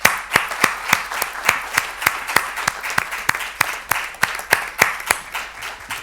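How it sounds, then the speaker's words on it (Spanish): An audience claps for four speakers at a human rights conference session, steady crowd applause with sharp, regular individual claps standing out close to the microphone, continuous throughout with no talking. "lo que procede ahora es un aplauso para las 4 intervenciones"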